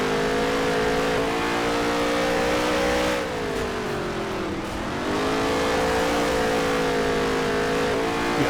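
A race car engine in NASCAR Heat 3 holds a loud, sustained drone with its tires spinning in place, the pitch dipping briefly midway and then climbing back up; no voices.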